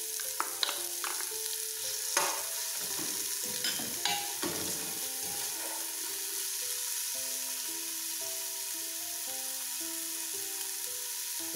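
Chopped onion and bell pepper frying in a pan, a sizzle with several scraping stirs in the first few seconds, then a steadier fry under soft background music.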